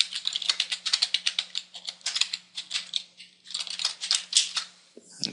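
Rapid clicking of keys as HTML and CSS code is typed on a computer keyboard while coding a WordPress theme, a steady close burst of keystrokes with short pauses, alone without talk.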